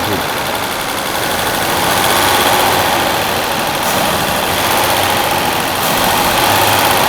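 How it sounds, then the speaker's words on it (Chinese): A Mercedes-Benz W126 280SEL engine with a clogged fuel tank drones loudly and steadily up close at a stable idle; brief throttle swells barely lift the sound, as if it won't rev up. "你看大哥把它吹油看看，吹不上去。"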